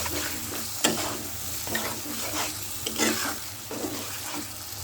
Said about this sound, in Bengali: এখানে আমি এখন দিয়ে দেবো একটু সামান্য সরিষার তেল, ভালো করে নাড়াচাড়া দিয়ে